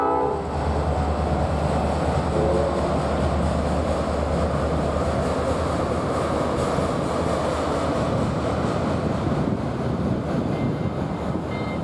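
A Norfolk Southern freight local led by a pair of SD40-2 diesel locomotives hauling mostly empty auto racks rolls past, a steady loud rumble and rail noise throughout with a brief horn at the start.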